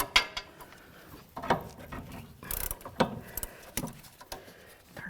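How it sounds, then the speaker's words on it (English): A wrench loosens the 17mm nut on a front sway bar link of a 2010–2015 Kia Sorento, giving sparse metallic clicks and ratcheting knocks close up, with quiet gaps in between. "Now remove the 17mm nut on the backside using a wrench or a socket or whatever you want."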